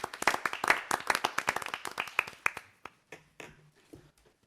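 A small group at a school district governing board meeting claps, with sharp, close individual hand claps that start brisk and loud, then thin out into a few scattered, fading claps.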